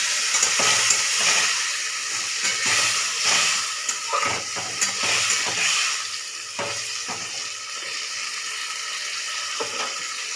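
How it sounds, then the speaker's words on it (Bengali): Ginger, cumin, tomato and dried and green chili paste sizzle and fry in a pan, with steady hissing broken by irregular stirring scrapes, close and clear. "এবার আমি দিয়ে দেবো এই আদা, জিরে আর টমেটো আর শুকনো লঙ্কা, কাঁচা লঙ্কার পেস্ট দিয়ে দিলাম।"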